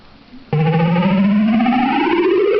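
Sega Genesis startup sound before the Frogger game: after a faint lead-in, a loud, sustained synthesized chime suddenly sounds and rings steadily with rising, layered electronic tones, no speech.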